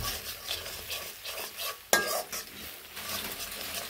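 Eggs with onions frying in a pan, with salt and turmeric added, for fried rice: steady close sizzle and stirring scrapes, a sharp utensil clack on the pan midway, no talking.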